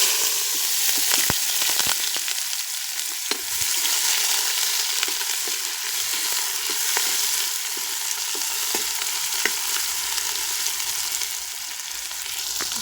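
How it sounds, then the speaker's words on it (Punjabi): Chopped onion, garlic and ginger fry with cumin seeds in a pan for a masala brinjal dish, a constant loud sizzle broken by scattered clicks and stirring knocks, no talk. "ਪਿਆਜ਼ ਆਪਣਾ ਫਰਾਈ ਹੋ ਰਿਹਾ ਹੈਗਾ"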